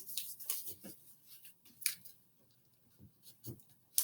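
Scissors snip through folded paper while a paper snowflake is cut, a run of small, close, quiet crisp cuts in an irregular rhythm with short pauses.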